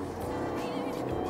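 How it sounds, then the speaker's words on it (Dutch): Jaguar XJ220 supercar at full throttle on a wet road, with wheelspin: a steady, loud engine roar held throughout, with some voice faintly mixed in. "Ik geef nu vol gas."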